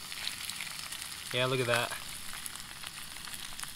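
Brook trout with rice sizzling steadily in a frying pan, a soft continuous crackle beneath a brief spoken remark.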